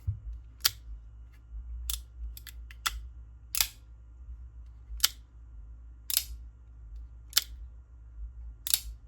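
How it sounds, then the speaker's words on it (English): A Hawk folding knife snaps open and shut in sharp, crisp clicks. There are about a dozen of them, some single and some in quick pairs, spaced a second or so apart and close up over a low hum. "I love that sound so much. It's so clicky sounding."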